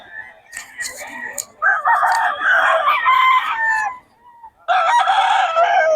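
A bull stag rooster crowing at a gamefowl market in Bocaue, two loud close crows with clucking and other birds around, and faint voices in the background.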